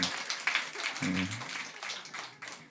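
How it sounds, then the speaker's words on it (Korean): A church congregation applauds a deacon for her work during a Sunday morning service. The clapping is faint and brief and comes in soft, uneven bursts, with a voice briefly audible over it. "수고하는 강설민 집사에게 박수"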